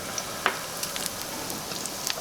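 Garlic frying in a pan with onions added hisses in a moderate, steady sizzle, broken by a few sharp pops and clicks from the pan. The sound is fairly close and there is no talk.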